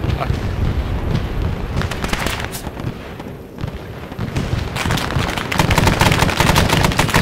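Heavy gunfire and booming grenade blasts from the military game Arma 3 SOG: Prairie Fire roll almost continuously, loud and dense, with a brief lull midway before the firing intensifies again.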